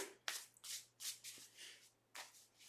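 Tarot cards are shuffled in several quick riffling bursts, soft and close, with short pauses between them.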